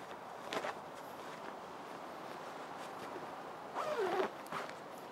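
The bag holding a large folded pop-up photography background is zipped shut in short, quiet rasps, one brief pull early and a longer zip near the end, against a faint room hiss.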